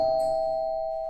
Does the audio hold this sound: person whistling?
no